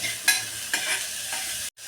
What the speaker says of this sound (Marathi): परत छान परतून घेऊया